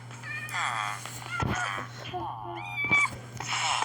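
A cat meows several times in the Minecraft video game, with short rising calls scattered between a person talking over a steady low game hum.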